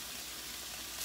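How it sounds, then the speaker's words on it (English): Chicken pieces browning in a hot frying pan, a steady, even sizzle with fine crackling throughout, close and moderately quiet, swelling slightly at the end. "now that one side is brown, I'm browning the other"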